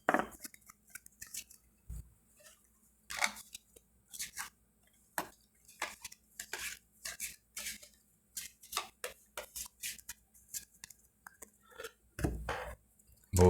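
Gypsy fortune-telling cards reshuffled and rearranged by hand, giving scattered soft slaps, flicks and papery clicks in an irregular rhythm, close and quiet, with no voice.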